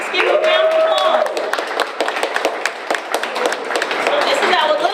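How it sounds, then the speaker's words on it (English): A school audience applauds Cab Calloway's grandson at an arts school event, with scattered sharp claps over a lively crowd, and excited voices and cheering mixed in. "Let's give him a round of applause."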